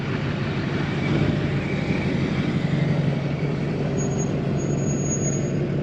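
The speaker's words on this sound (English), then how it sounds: "the Ford is on its way. I hear it driving down the dirt road. Kind of sounds like a baby semi truck." A custom Ford F-550 truck driving away down a dirt road, a low, steady diesel rumble with a deep droning tone that holds evenly at moderate distance, with no talk.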